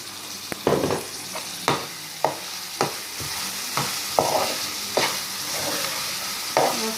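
Chicken and capsicum sizzle in a pan while a spoon stirs them, giving a steady frying hiss broken by about a dozen sharp scraping knocks at irregular intervals, close and clear.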